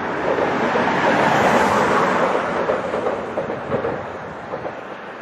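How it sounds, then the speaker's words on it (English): A four-coach train transferred from ScotRail rolls past nearby as a loud, steady broadband rumble that swells early and slowly eases, with faint rhythmic wheel clatter toward the end. "4 coach trains"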